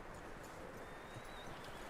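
Horse hooves clop at a steady walking rhythm in Red Dead Redemption 2, a soft, even series of muffled hoofbeats over low ambient game background, with no voices.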